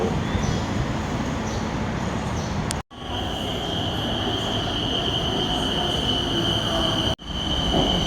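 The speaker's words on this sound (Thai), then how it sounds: "รถ BTS มาแล้ว" A Bangkok BTS Skytrain pulls into a station with a loud, continuous rumble of wheels on rails and a high steady squeal, close by, broken by two brief cuts.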